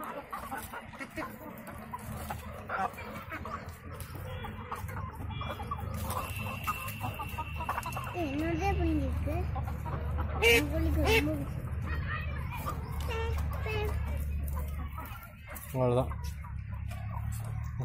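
Chickens and ducks eating fish fed to them, with hens clucking and squawking repeatedly up close while people talk in the background throughout.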